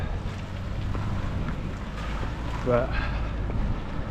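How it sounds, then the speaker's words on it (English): Steady headwind buffets the microphone outdoors with a low, rumbling roar throughout, while a voice briefly speaks underneath. "it's really bloody windy again, and it's a headwind"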